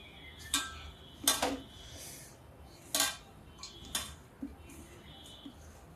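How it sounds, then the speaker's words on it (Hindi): Bread and onion pakora batter being mixed in a bowl: a handful of sharp, scattered clinks and scrapes of a spoon against the bowl, fairly close, with quiet gaps between them and no talking. "देखिए मिक्स कर देते हैं।"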